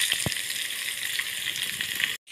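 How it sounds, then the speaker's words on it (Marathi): Paneer frying in ghee in a frying pan sizzles steadily and loudly up close, a constant hiss with a couple of faint taps before it cuts out abruptly near the end. "जेव्हा आपण पनीर तुपामध्ये फ्राय करतो तेव्हा ते अजिबात चिटकत नाही"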